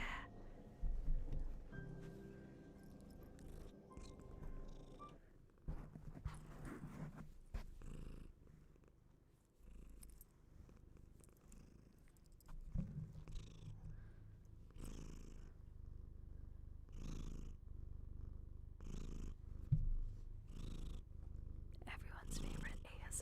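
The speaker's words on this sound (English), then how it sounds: "Spooky the Cat ASMR" A cat purrs close up in an ASMR-style recording, a soft rhythmic rumbling purr with audible breaths, while a person whispers and murmurs quietly over it throughout.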